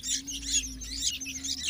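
Chirping from a brood of six young sooty-headed bulbul (kutilang) nestlings, a dense run of thin, high peeps and cheeps close by, overlapping continuously with a steady low hum underneath.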